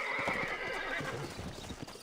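In the video game Red Dead Redemption, a horse whinnies shrilly over a quick, rhythmic clip-clop of hooves, close and fairly loud, with game-like ambience behind.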